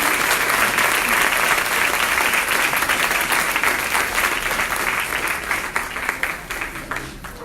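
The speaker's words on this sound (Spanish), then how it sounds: "Un fuerte aplauso al Señor." A church congregation gives sustained loud applause, dense rapid clapping from many hands that holds steady, then gradually fades over the final seconds.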